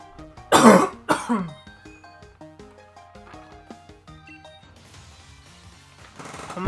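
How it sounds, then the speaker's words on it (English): Two loud, harsh coughs burst out near the mic early on, followed by quieter throat noises over faint game music in the background. "I'm gonna cough it all out."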